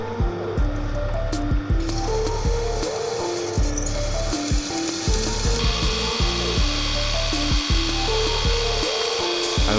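A power drill bores 5mm holes through softened, forged Damascus steel pieces, giving a steady grinding whir broken by repeated short mechanical bursts and clatters, close and loud, with no talking.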